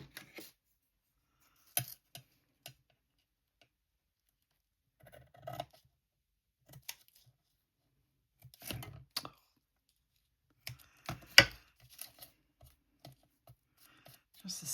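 Scissors snip paper in short, sparse cuts, close and quiet, with pauses between them and soft handling noises.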